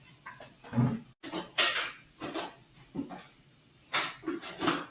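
A dog pants in quick breathy bursts and scuffles around nearby, with claws and clattering bumps in uneven clusters, fairly quiet and without speech.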